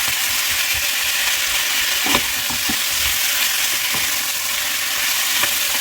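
Pork curry sizzles loudly in a hot pan while it is stirred, with a dense, continuous hiss and a few soft scraping knocks from the utensil, close up and with no speech.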